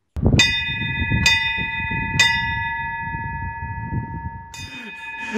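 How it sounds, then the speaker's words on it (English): A handbell rings out in four clear, bright strikes, three evenly spaced close together and a fourth after a pause, each tone ringing on over a low murmur of background noise during a Scandinavian-style virtual charity auction. "for ringing the beautiful bell"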